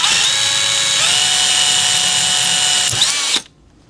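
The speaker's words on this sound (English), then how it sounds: "All right, we're going to drill our 1/8 inch hole." A power drill with a 1/8 inch bit whirs loudly and steadily for a few seconds, its pitch shifting slightly as it bites in, then stops abruptly.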